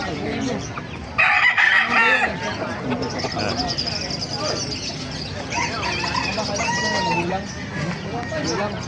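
A rooster crows at a poultry market in Bocaue, with two loud, drawn-out crows rising over steady crowd chatter and nearby voices.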